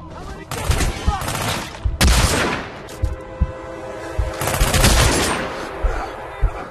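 Loud gunfire from a sniper shotgun in the game Hitman: Absolution comes in several heavy bursts with booming reports. Sharp single cracks fall between the bursts.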